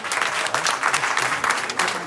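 A comedy club audience applauds a volunteer called up on stage, with dense, steady clapping close by for about two seconds and a few voices mixed in.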